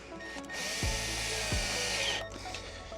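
A power drill bores screw holes through a wooden boat tread strip held down on the board, giving a steady close whine with a change in pitch partway through, alone and without talk.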